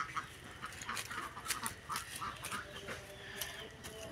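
Ducks quacking in short, repeated calls at a farm where they lay eggs, scattered across the moment at moderate distance over a low background murmur, with no talk.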